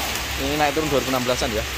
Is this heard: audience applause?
no